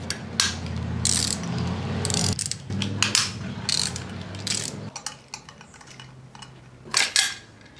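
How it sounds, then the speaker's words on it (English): Close ratchet wrench clicking as 10mm bolts holding an engine pipe are loosened, several bursts of rapid ratcheting separated by short pauses and light metallic handling. "Next I'm gonna remove this pipe, which is held in place by these four 10mm bolts."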